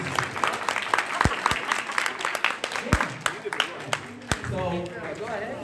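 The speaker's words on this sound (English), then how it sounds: "we're going to get our children to clap for you" Children clap for their parents at a February PTA meeting, a scattered, uneven burst of hand claps with sharp individual slaps, mixed with voices and room noise in a school hall.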